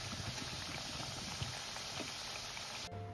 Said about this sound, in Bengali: দেখো এইভাবে খাজাগুলোকে কিন্তু আমি ভেজে নেব